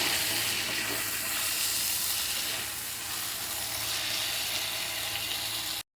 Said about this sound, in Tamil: இப்போ ட்ரையாக வந்து இதை வறுத்து எடுத்துக்கலாம் உருளைக்கிழங்கை.